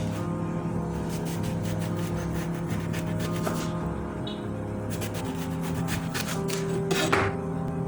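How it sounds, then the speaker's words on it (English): A knife cuts an eggplant into thick slices, giving repeated rasping strokes and taps on a board in irregular bursts, with a low steady hum underneath and no talking. "I'm going to cut it into slices, sort of a thick slices"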